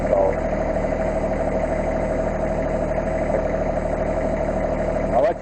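A Massey Ferguson 1526 tractor engine idles steadily and close by, a continuous even rumble with a constant tone and no change in pace.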